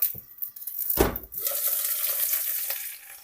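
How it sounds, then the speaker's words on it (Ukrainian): A loud burst of sizzling as liver drops into a hot pan, then a steady frying hiss with light scraping near the microphone. "Так, печіночку додаємо в сковорідку."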